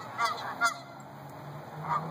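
Canada geese honk a few times, three nasal calls spread over two seconds, moderately close against a quiet outdoor background.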